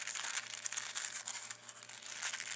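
Tissue paper inside a gift bag being folded down, giving a steady, soft crinkling and rustling close up with no voices.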